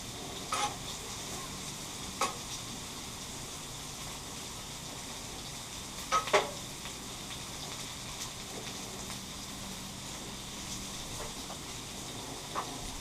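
A thin steak fries on a Blackstone flat-top griddle for Philly cheesesteaks, giving a steady, fairly quiet hiss broken by a few sharp scrape or tap clicks near the start and middle.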